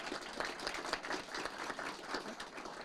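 An audience at a city council meeting applauds to welcome a speaker from the Southwest Carpenters Union Local 951, a steady, fairly soft wash of many hands clapping.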